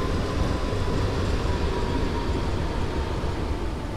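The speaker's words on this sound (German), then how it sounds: "Dann sehen wir, dass dort noch eine S-Bahn einfährt." A Wuppertal S-Bahn train pulls into Wuppertal Hauptbahnhof in Train Sim World 4, heard as a steady, loud low rumble of rolling wheels and running gear with a faint tonal hum, continuous throughout.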